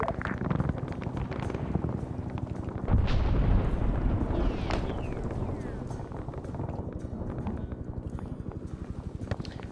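Artillery in the SOG Prairie Fire game: 105mm HE fragmentation rounds land with heavy booming impacts and rumbling blasts over a busy battlefield backdrop, one particularly strong hit about a third of the way in.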